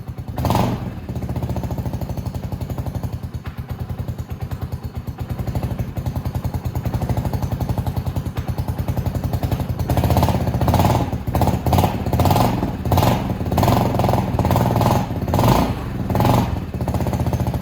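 A Venom X22GT 250cc automatic motorcycle engine idles close by with a rapid, steady putter, then brief throttle blips push it into louder, rougher bursts in the second half.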